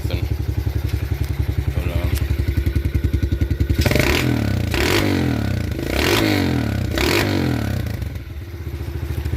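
A Kawasaki KLX110 dirt bike with a freshly cleaned carburetor idles with a rapid even putter, then revs in several sharp, loud bursts before settling back to idle, close up.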